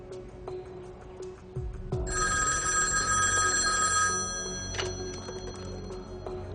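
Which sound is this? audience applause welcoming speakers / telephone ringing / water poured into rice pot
telephone ringing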